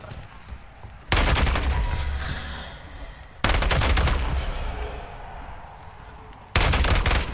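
Loud bursts of automatic gunfire in Modern Warfare 3 Zombies, three heavy volleys of rapid shots each fading into ringing noise, close and dominant with no talking.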